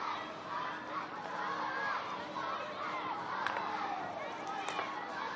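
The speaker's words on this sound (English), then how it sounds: "You can hear the school children" A large crowd of school children keeps up a continuous, shrill roar of cheering and shouting in a packed stadium at a women's hockey match, heard from a distance as a dense wash of voices.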